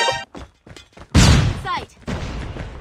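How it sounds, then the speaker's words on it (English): Flashbang grenade going off in Call of Duty Mobile, a sudden loud burst followed by a ringing, crackling tail, amid earlier thuds of gunfire and game voice callouts. "Flashbang!"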